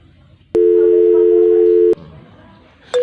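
A steady telephone tone rings out loud and alone for over a second, then cuts off, and a second shorter tone starts near the end.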